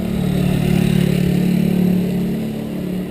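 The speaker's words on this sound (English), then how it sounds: "Hey, motorcycle." A motorcycle passes close by during a mountain bike ride along a seaside and hillside route in Thailand, its engine a steady, loud mid-pitched drone that holds for a few seconds before easing slightly.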